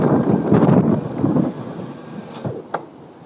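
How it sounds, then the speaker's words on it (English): Strong gusty wind buffets the microphone outdoors on a snowy January day during gyrfalcon flying, roaring in uneven surges that swell and fade over a few seconds, with no voices. "The wind's coming from my left right now."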